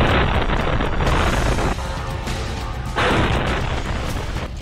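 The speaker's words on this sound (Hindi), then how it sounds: "ज़ेलेंस्की का ड्रोन रूस के सारातोव शहर में पहुंचा और फिर इस रिहायशी बिल्डिंग से जा टकराया।" A drone crashes into a residential building in the city of Saratov, Russia, and explodes: a loud, sustained roaring blast with dense rumbling noise whose intensity shifts, heard alone without talk.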